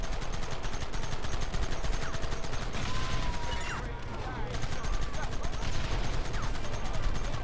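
Rapid gunfire from a firefight in Red Dead Redemption, dense overlapping shots and bursts that keep going for several seconds over a loud, busy background.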